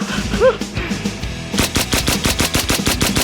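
Video game gunfire from a pistol: a few scattered shots at first, then a fast, regular string of sharp, loud reports that repeats steadily to the end.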